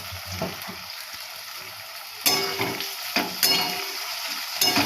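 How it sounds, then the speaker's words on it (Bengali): Seeded, chopped tomatoes fry in a little oil, giving a continuous sizzle that swells into louder crackling bursts from midway, with occasional stirring scrapes. "এটা একটু ভাজা ভাজা হবে টমেটোটা।"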